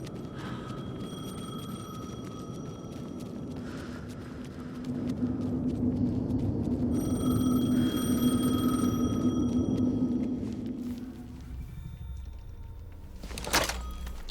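A telephone rings in the horror video game Alan Wake 2, its repeated electronic tones sounding over a low, swelling ambient rumble, with a sharp rising whoosh near the end.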